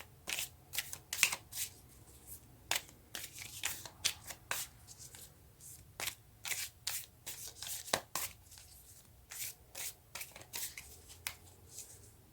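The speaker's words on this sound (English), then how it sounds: "You guys saw me shuffle this." Tarot cards shuffled by hand in a quiet room, a soft recurring rhythm of crisp riffling and sliding bursts with short pauses between them, close and faint, with no talk.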